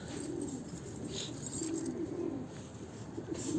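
Mardin pigeons cooing in a repeated low, throaty rhythm, fairly close, with a constant background hum and no talking.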